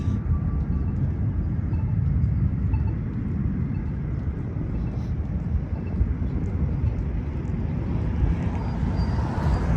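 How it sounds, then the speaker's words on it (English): A deep, steady roar of jet engines from aircraft near Las Vegas rumbles continuously, loud and low-pitched, filling the whole stretch without letting up. "You might be able to hear the roar of the jet engines"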